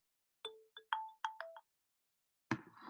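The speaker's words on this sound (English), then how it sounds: "sorry, that was my phone" A mobile phone ringtone plays a short series of clear melodic electronic tones, near and fairly loud, followed by a brief burst of broadband noise near the end.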